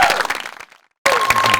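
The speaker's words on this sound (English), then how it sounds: "Can you give me a big round of applause and love for each act?" Audience clapping at a variety show on Cuttyhunk, a burst of many hands that cuts off into brief silence and then resumes at full strength.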